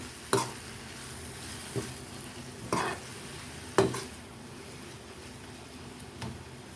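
A spoon stirs and sautés a ground paste with other ingredients in a pan for sambar, giving a few scattered scrapes and taps over a faint, steady sizzle.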